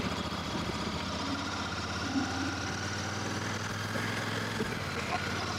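A Royal Enfield Super Meteor 650 motorcycle runs in fourth gear at about 50 km/h, its engine a steady, loud, close drone with continuous low rumble and wind noise throughout.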